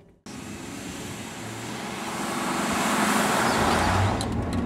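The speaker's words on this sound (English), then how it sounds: "we're going to turn the car on, the car's already on rather, and we're just going to start accelerating" A car revs up and accelerates from near stillness, its engine and road roar starting abruptly and swelling steadily louder over several seconds, heard from inside the car without talk.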